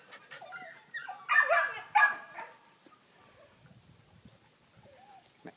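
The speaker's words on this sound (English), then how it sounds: "Red bone hound and black lab mix." Redbone hound and black lab mix puppies, about ten weeks old, give a few short whimpers and yips close by, two louder bursts in the middle, then quiet rustling.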